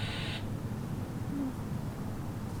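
A HiFi Rose RS150 radio sweeps through stations, a brief high tone followed by steady hissing static with a faint whistling warble, moderately quiet and close.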